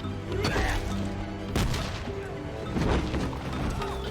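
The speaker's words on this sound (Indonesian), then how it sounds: "Desmond yang saat itu melindungi temannya dari granat yang telah dilempar oleh pasukan Jepang akhirnya terluka karena ledakan." Heavy explosions from battle scenes in the war film Hacksaw Ridge, where Japanese troops throw grenades: loud booms, crashes and bursts of gunfire layered over a dense rumbling score, with sharp blasts recurring across the clip.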